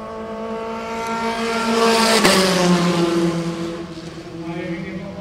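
A Formula 4 race car from the 2017 Formula 4 SEA Championship rounds the last corner, its high engine whine building to a close peak mid-way, then easing off as it pulls away, with commentary talking over it.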